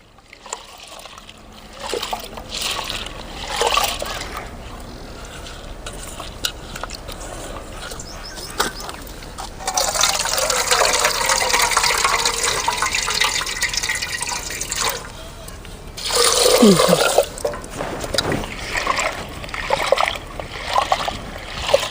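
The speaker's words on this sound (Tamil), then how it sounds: "நல்ல கருந்தண்ணி போக கழுவினேன்" Water runs and splashes steadily as bananas are washed under a tap, with drips and louder gushes toward the end; no talking.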